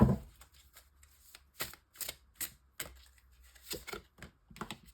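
A tarot deck is cut and handled, with soft, close card flicks and slaps arriving in short irregular clusters against a quiet background.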